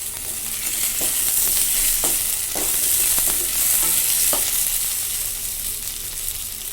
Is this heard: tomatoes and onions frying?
yes